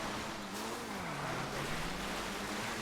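A Z-type car's engine revving in a GTA 5 race, a steady loud roar with a slowly wavering pitch that dips and climbs under broad road and wind noise, with no break and no talk.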